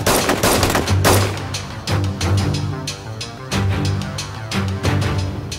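Bursts of gunfire, rapid cracking shots in several volleys with short pauses between, loud and close.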